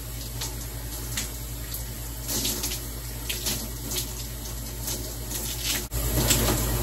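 Shower water runs steadily in a home bathroom during a morning routine, a continuous hiss with a few soft knocks and splashes, close and unbroken throughout.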